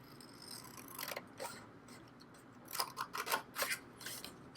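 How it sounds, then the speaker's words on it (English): Quiet snips of scissors cutting paper, a few scattered cuts early, then a quicker run of crisp snips, close by. "I'm going to go ahead and just use my scissors."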